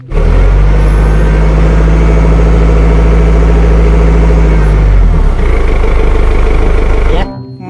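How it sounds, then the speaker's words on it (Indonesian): Steady low engine drone of a forklift idling, a toy truck model, with a strong rumbling hum that holds for about five seconds, then shifts and fades out before a clean stop. "Forklift."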